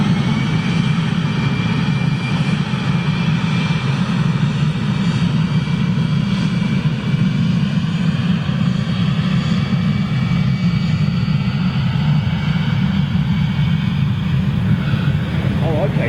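Jet airliner engines roar steadily at Lisbon airport, a Boeing 747 or A350, with a dense low rumble and hiss throughout, under occasional talk.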